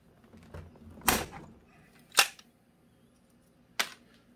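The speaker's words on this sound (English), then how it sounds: "It's going to make a loud pop." A pop rivet being set into a plastic tub gives three sharp, isolated pops, each separate and alone, with the middle one the crispest.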